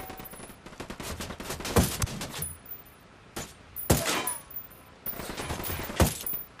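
Sniper rifle shots in the video game Ghost Recon Wildlands, three sharp, loud cracks spaced a couple of seconds apart, each ringing out over a low bed of game ambience and faint background noise.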